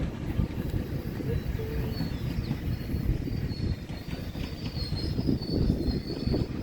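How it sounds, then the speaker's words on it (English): A GO Transit commuter train rumbles past steadily with a dense low roar and rattling wheels, moderately close and continuous throughout. "Hey, that's the go train. That's the go train going by there."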